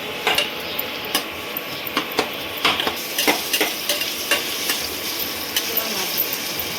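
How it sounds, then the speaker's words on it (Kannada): Onions frying in a pan for a country chicken sambar, with a soft background sizzle and repeated sharp clicks and scrapes of a spoon stirring against the pan, close and steady. "ಈರುಳ್ಳಿ ಹುರ್ಕೊತಾ ಇದ್ದೀನಿ."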